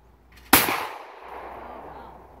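A single shotgun blast fired at a sporting clay target on a rabbit station, a sharp loud crack near the mic followed by a decaying outdoor echo and quiet ambience.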